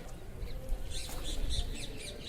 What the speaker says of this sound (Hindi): तोतों की आवाज़ आप यहाँ भी सुन सकते हैं।